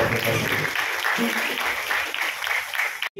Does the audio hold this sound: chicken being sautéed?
no